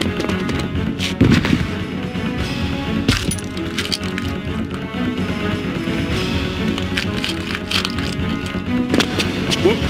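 Gunshots fired at a monster in Resident Evil 2: repeated sharp cracks at irregular intervals over a dense, busy game soundscape, with metallic clinks mixed in.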